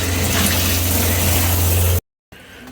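Water gushes from a newly upgraded RV shower, a loud steady rush with a pump-like hum underneath, cutting off abruptly, then a quieter flow resumes after a brief silence.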